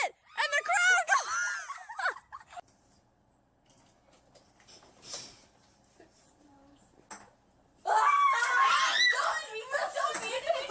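A small group of people cheers and shrieks in two loud, excited bursts, with quieter scattered voices and laughter in the lull between them.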